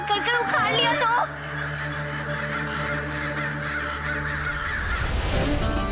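Several crows cawing loudly and nearby, harsh repeated calls overlapping throughout, layered over a dramatic music score.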